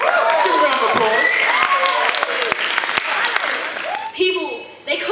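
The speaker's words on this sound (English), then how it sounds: "Give a round of applause." An audience applauds an act at an open mic night, a steady wash of clapping with voices talking and calling out over it, the applause thinning toward the end.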